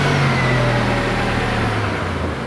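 Honda Accord engine running with a no-power fault from reversed TPS-MAP connectors, a steady close mid-low engine hum with a slight pitch drop early on, no speech.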